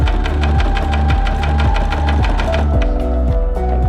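A sewing machine stitching fabric for buttonholes runs at a steady fast rhythm with a loud, close mechanical chatter and hum that never breaks across the whole stretch, with no voice heard.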